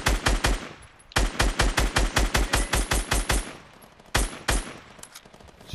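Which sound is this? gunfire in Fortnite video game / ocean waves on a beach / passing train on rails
gunfire in Fortnite video game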